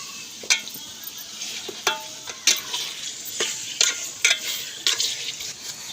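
Mutton curry stirred in a pot over a wood fire, with a steady sizzle and repeated scraping strokes of the spoon against the pot at an irregular rhythm, close by and without speech.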